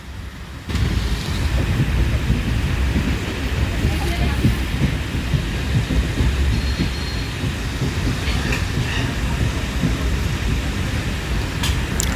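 The 13147 Uttarbanga Express, running with new LHB coaches, pulls into Falakata station with a loud, continuous rumble of wheels on rails that barely changes throughout.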